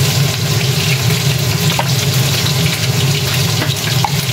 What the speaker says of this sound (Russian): мясо протушу вместе с луком, обжаренным в сковородке